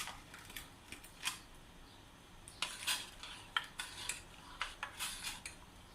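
Strawberry jelly powder being mixed into custard, with a spoon clinking and scraping against a bowl in scattered light taps and stirs, close by and fairly quiet, no voices.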